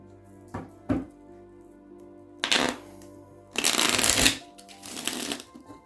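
A deck of tarot cards being shuffled close by in several separate bursts, a couple of quick soft taps and then longer riffling rushes, the last one loud and sustained.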